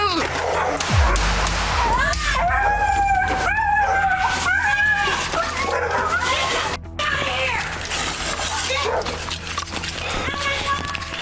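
After police shoot a dog outside a residence, it yelps and whimpers in a series of high pained cries at close range, mixed with people talking and shouting.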